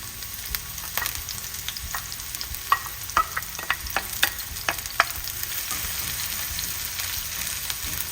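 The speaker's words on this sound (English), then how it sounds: "And add the green onion white parts into the pan." Green onion whites frying in two tablespoons of cooking oil in a pan: a soft continuous sizzle with scattered crackles and light pops, plus occasional spatula taps, fairly quiet and close.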